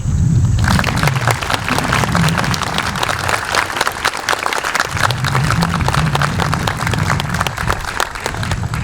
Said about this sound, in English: I ask you one more time for a round of applause for our three speakers today